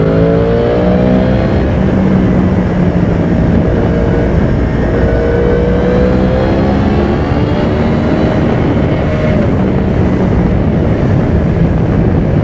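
Yamaha YZF 1000 R1 motorcycle engine revving hard and accelerating, a loud, continuous high-revving roar with rising pitch sweeps and heavy wind noise throughout.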